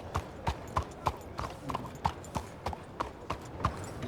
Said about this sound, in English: The sound of the hooves.